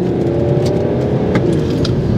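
A BMW 335d E91 diesel accelerates hard under power out of a smooth flowing corner, its engine note a loud steady low drone that swells slightly, heard close from inside the car.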